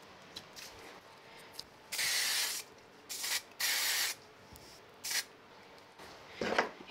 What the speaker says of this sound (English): I'm just going to use a little bit of spray glue on the back